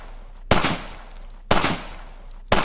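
Three sharp, loud gunshots in a video game test map, evenly spaced about one second apart, each a hard crack trailing into a short decaying rumble, with no talking.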